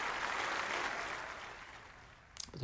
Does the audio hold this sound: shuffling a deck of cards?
no